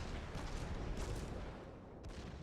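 Secondary guns aboard a warship fire in the World of Warships video game, a faint rolling rumble of distant booms with a few sharper reports scattered through.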